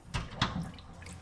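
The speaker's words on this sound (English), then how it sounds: "And then let the water go." Water letting go from a sink after soaking paper for a gouache stay-wet palette, a soft gurgling wash with two brief louder surges, close and fairly quiet.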